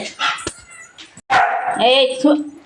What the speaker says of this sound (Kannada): ಇವಾಗ ಅವನನ್ನು ನೋಡ್ಬಿಟ್ಟು ಬೊಗಳುತ್ತಾ ಇದ್ದಾನೆ